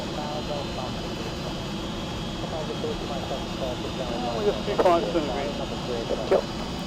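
Avro Vulcan XL426 taxiing on an airfield taxiway, its jet engines a steady broad roar with power rising slightly on an uphill corner, with a few brief higher whines and clanks near the end.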